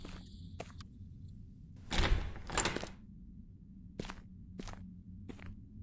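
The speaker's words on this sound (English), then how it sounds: "Door's jammed." A jammed door in a Chernobyl exploration video game rattles and thuds as it is tried, a few knocks followed by a louder shove around the middle, with quieter clunks after, close by and with no talking.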